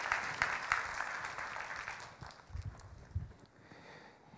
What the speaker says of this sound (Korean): 우리 두 분 집사님들에게 박수 부탁드리겠습니다